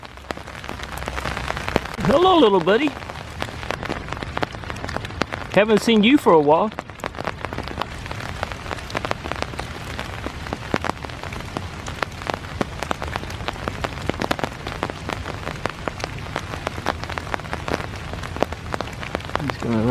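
Heavy rain pours steadily over a dark, wooded park on a foggy morning, a dense constant patter throughout while someone speaks briefly and calmly over it.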